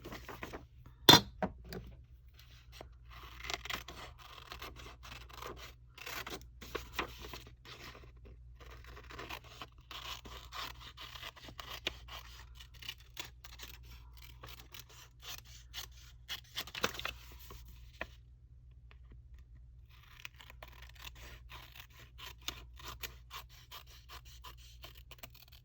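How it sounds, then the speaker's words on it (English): Scissors cut out paper for a mixed media creative journal, a long run of faint, close snipping and scraping strokes with small rustles and brief pauses in between. "All right, I need to cut this out."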